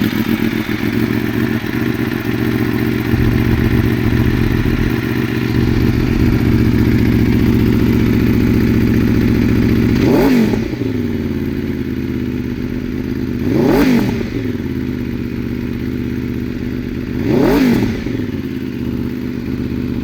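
A 2010 Aprilia RSV4 Factory sport motorcycle engine idles steadily up close, then blips its throttle in three sharp revs, each rising and falling quickly.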